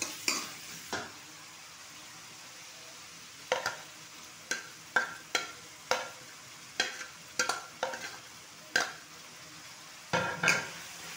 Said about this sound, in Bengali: পেঁয়াজটাকে আমি হালকা ব্রাউন করে ভেজে নেব।